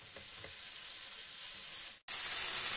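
Grated tomato sizzling and frying in hot oil in a pan for a stuffed pepper gravy, a steady close hiss that cuts out briefly and returns louder and brighter.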